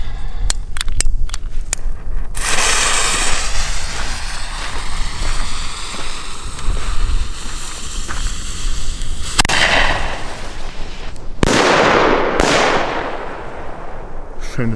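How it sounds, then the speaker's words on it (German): Salute shells of the Knallstern Salut Orange firework burst outdoors: a quick string of sharp cracks, then loud booming reports with crackling tails, close and powerful. "dann machen wir gleich noch den Knallstern bzw. Salut Orange hinterher"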